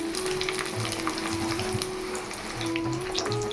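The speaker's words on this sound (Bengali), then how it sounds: "লাচ্ছা পাউডারটা আমি ভাজছি" Lachha powder fries in oil in a small pan, a continuous close crackling sizzle with occasional soft scrapes and a faint steady hum underneath.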